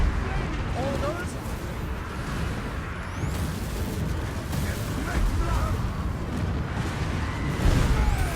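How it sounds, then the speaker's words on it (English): Warp lightning cannon fire in a Warhammer-style battle game booms and crackles through dense, continuous battlefield noise, with a heavier blast near the end and voices talking underneath. "The warp lightning cannon is actually doing some damage."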